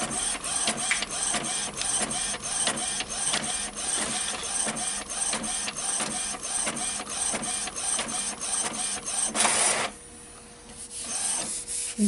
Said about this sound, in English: I'm sure you hear it printing.